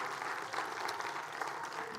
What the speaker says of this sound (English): Clap your hands one more time, everybody.